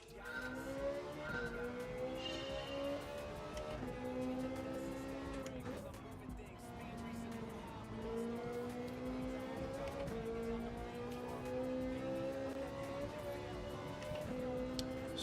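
A Ferrari 458 Italia's engine wails in Gran Turismo 7 on the Nürburgring Nordschleife, the revs climbing and dropping through gear changes, steady and prominent, with a voice talking over it.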